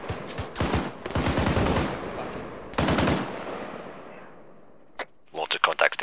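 Mortar and weapon fire in the military game ARMA 3, with heavy booming bursts and rapid gunfire rolling through the first three seconds, then fading before sharp sporadic shots near the end. A voice can be heard briefly among the blasts.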